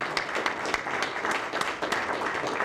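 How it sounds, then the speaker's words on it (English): An audience at a Sacramento school board meeting in 2000 applauds, a dense, steady patter of many hands clapping at moderate distance, with faint crowd murmur underneath. "the Maloofs at the start of the millennium, drawing applause and awards from a Sacramento school board wearing suits and ties and bright smiles."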